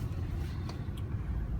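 A 2016 BMW 740i with a 6-cylinder inline twin-scroll turbocharged engine on the move, giving a faint, steady low hum of engine and road noise from inside the car.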